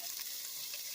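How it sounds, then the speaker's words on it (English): Chopped, broad-cut onion sizzles in a preheated pan while cooking Great Northern beans, a steady, close, bright frying hiss with no talk over it. "there's already a sizzle going on because my pan was already preheating up"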